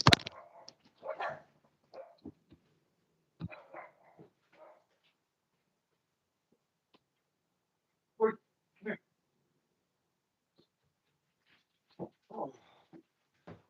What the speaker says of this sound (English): The dogs don't bark for nothing.